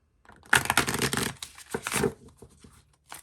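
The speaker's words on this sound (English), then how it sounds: "gonna shuffle in some more cards." Tarot cards being shuffled by hand, a close, papery riffling and rustling in quick bursts that fade into lighter card flicks.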